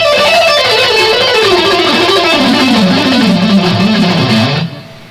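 An electric guitar runs a scale with picking that starts on a downstroke. Quick, even notes step steadily downward, loud and close, with no talking, and the sound cuts off sharply at the end.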